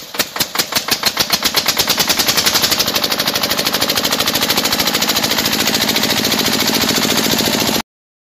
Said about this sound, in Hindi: ए जो जनरेटर चलने की कहां से आवाज आ रही है?